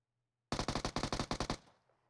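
An automatic weapon fires in PUBG Mobile, a rapid, evenly spaced burst of about a dozen loud shots after silence, ending in a short reverberant tail.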